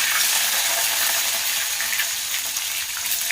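Garlic fries in hot oil with mustard seeds and curry leaves, giving a steady, close, bright sizzle and crackle that carries on unbroken, with faint stirring and no talking.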